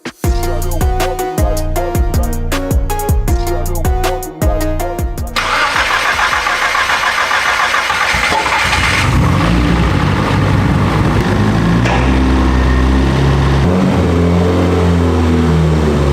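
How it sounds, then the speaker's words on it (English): A Nissan 300ZX fitted with an SR20 engine cranks with rhythmic starter pulses, then fires and settles into a loud, steady running idle with a rising rev partway through, close and alone. "SR20 is running really well."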